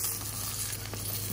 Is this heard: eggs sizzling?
yes